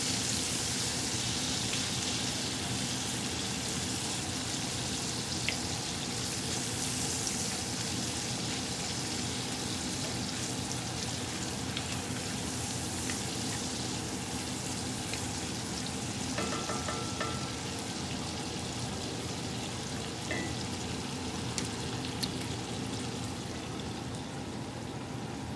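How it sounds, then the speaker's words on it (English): Onions sauteing in a cast iron pan beside a resting ribeye, a steady, even frying hiss like light rain that stays constant throughout, with no talking. "Okay, so I've got my onions cooking now"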